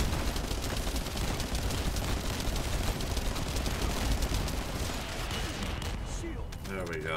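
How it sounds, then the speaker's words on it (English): Loud, continuous game-style gunfire and explosions pile up densely, with a brief voice-like sound near the end. "There's so much happening. Explosions everywhere."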